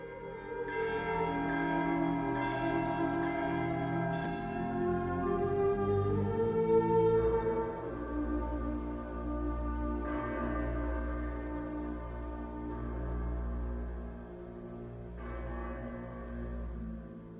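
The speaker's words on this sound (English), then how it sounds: "when we hear the bells of various churches in Rome ringing" Church bells of Rome ring together in a dense, resonant wash, overlapping peals sustaining steadily with deep low tones beneath.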